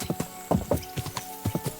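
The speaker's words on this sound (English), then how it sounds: "I'll just jump on the horse and just explore the terrain" Horse hooves clip-clop steadily in Kingdom Come Deliverance 2, a loud, close run of uneven hoofbeats with no talking over them.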